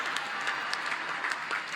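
An audience at a ceremony honouring Olympic athletes claps in a dense, even burst of applause from many hands, steady and moderately loud for the whole moment.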